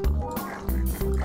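A few short, nasal pig grunts from Minecraft, loud and close, coming in quick bursts.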